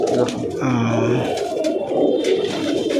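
Pigeons coo softly at a home loft, their low throaty calls mingling with background chatter and general ambient noise throughout.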